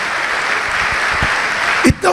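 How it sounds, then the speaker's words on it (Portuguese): Church congregation applauding in a sustained, fairly even wash of clapping that holds steady, with a brief voice breaking through near the end. "Vamos aplaudir ao Senhor por isso."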